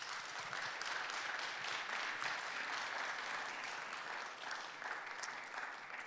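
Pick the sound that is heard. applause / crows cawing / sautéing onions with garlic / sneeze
applause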